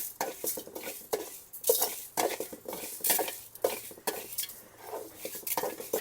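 Coriander and fenugreek seeds roasting in a hot pan, heard as close, rhythmic scraping and stirring of a spoon against metal, with light sizzling and rattling of the dry seeds.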